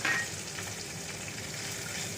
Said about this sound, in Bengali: দিচ্ছি পেঁয়াজ কুচি